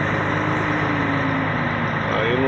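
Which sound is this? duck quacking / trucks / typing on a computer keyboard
trucks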